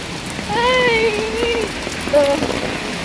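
Steady rain falls in dense, even hiss on a stormy day, with faint tonal sounds drifting over it from about half a second to two and a half seconds.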